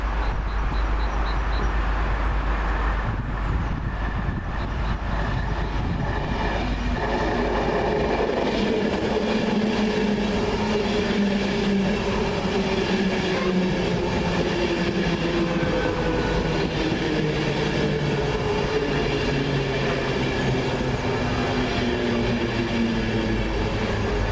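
A London King's Cross service train pulls in over about twenty-four seconds, a steady loud rumble of wheels and carriages with rising tonal whines and brake squeal building as it slows near the platform.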